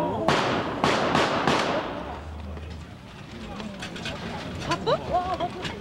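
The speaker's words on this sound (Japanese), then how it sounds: "ただいま発砲がありました。" Five or six sharp real gunshots ring out in quick succession near the start, a single bang then four or five more, outside the Aum Shinrikyo Aoyama headquarters in 1995, followed by murmuring voices and ambient noise.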